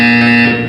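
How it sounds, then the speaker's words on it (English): A single loud, steady electronic buzz from the video game Portal 2 sounds briefly, then starts to fade at the end. "You will hear a buzzer."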